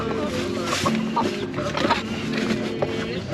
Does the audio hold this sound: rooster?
yes